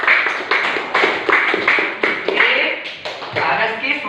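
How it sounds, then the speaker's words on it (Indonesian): A classroom of students claps for a classmate in a quick, even rhythm of sharp bursts about twice a second, close and loud, with voices chattering alongside. "tepuk tangan dulu untuk Reski"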